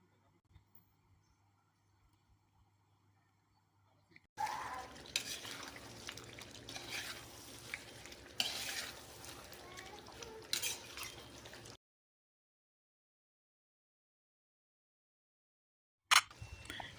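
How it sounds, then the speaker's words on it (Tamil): Cooked chicken stirred into a masala with butter, for a chicken ghee roast: several seconds of close scraping, clinking and wet sizzling, bracketed by near silence, with a brief return at the end. "இப்போது ஏற்கனவே நம்ம வேக வச்சு வச்சுருக்கிற சிக்கனை இப்போ உள்ளே சேர்த்து நல்லா கிளறிக்கலாம்"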